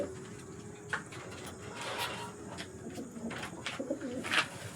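Male pigeons of a fancy breed coo repeatedly at close range, low soft rumbling calls over a faint background with occasional clicks and rustles.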